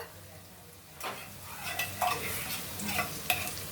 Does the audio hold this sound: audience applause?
no